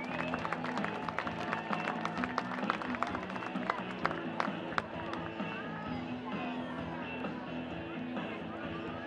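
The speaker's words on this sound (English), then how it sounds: "How about a round of applause for our two finalists at the first annual African Nations Cup, Cameroon and Ghana." Stadium crowd applauding the Cameroon and Ghana finalists of the first annual African Nations Cup at a Charlotte Independence soccer match, a steady spread of scattered clapping and crowd noise with a low musical hum underneath.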